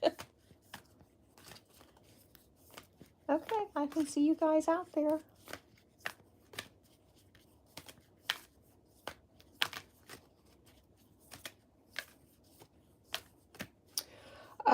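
Tarot cards being shuffled in a bright riffling burst partway through, with scattered card taps and soft handling clicks around it, all fairly quiet beneath a person talking.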